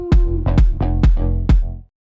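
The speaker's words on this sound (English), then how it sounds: "Then I have my drop bass with the kick" A deep house drop bass, layered sub, mid and sawtooth mid bass, pulses with punchy kick drum hits, five heavy thumps with booming low sustain, loud and alone before cutting to silence.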